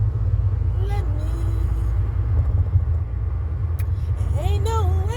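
Steady low rumble inside a moving car, loud and continuous throughout, with a voice singing over it.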